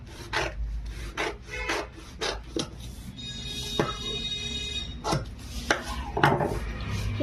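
Scissors cutting through a doubled paper sleeve pattern, a series of rasping, rubbing snips close by, irregular in rhythm and with no talk.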